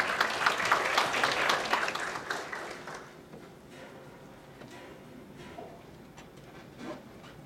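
At a climate change adaptation conference, the audience applauds to welcome a speaker. The clapping is loud at first and fades after a few seconds, leaving scattered claps and quiet room noise.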